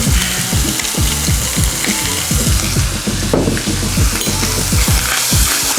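Loud, close sizzling of oil in a pan with bay leaf and fresh thyme, full and continuous, with rapid crackling and popping throughout and no talking.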